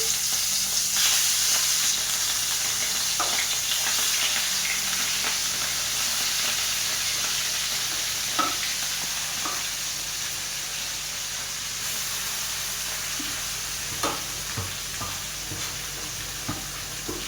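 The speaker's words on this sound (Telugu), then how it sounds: "కళాయిలో ఒక గ్లాసు నూనె పోసి అయితే వేడి చేసుకున్నాం. ఇప్పుడైతే కలిపి పెట్టుకున్న ఫిష్ని అయితే ఇందులో పెట్టుకున్నాము." Marinated fish fries in a glass of hot oil in a kadai, a loud steady sizzle and hiss throughout, broken by occasional pops and light scraping clicks of stirring.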